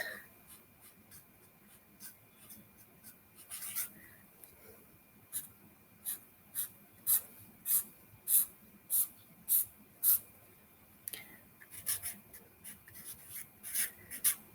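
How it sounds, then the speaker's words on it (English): A pen draws lines on a bell curve diagram in a series of repeated, rhythmic scratchy strokes. The strokes are close and grow more regular partway through. "Draw a couple of lines just to make a point."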